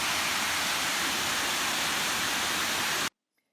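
Brandywine Falls in Cuyahoga Valley roars as a constant broadband rush of water, then cuts off abruptly into silence.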